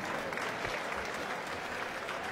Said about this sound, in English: Generous, almost cricket-like applause.